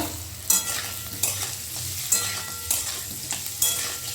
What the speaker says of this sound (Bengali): আলুটা একদিকে ভাজা হতে থাক,